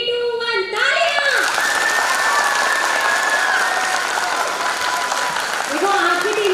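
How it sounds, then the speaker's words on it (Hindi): An audience at a corps day celebration bursts into loud, sustained applause that fills the whole stretch. A few voices briefly rise over the clapping near the start and end. "3, 2, 1, तालियां।"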